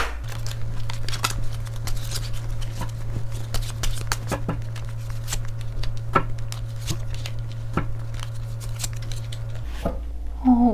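Tarot cards are handled and drawn with crisp papery snaps and flicks in a loose, irregular rhythm, close up, under a low steady hum.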